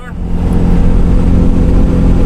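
A Cummins 5.9 diesel truck cruises at highway speed, its engine and road noise forming a steady, loud, low rumble that holds constant throughout from the cabin.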